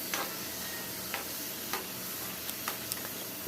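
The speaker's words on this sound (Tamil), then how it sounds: "நல்லா வதக்குறாங்க" Food sautés in a pan with a soft steady sizzle, and a few sharp ticks and clinks of stirring ring out at irregular intervals, faint and without talk.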